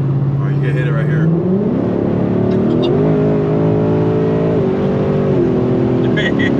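A 2018 Ford Mustang GT 5.0 with the Performance Pack accelerates hard from inside the cabin, its V8 engine note rising through the revs with shift steps, loud and continuous.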